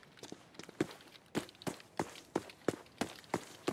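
Footsteps of an enemy player in the shooter game Arena Breakout: Infinite, a steady, fairly close run of about a dozen crunchy steps at a brisk walking-to-jogging pace, with no talking over them.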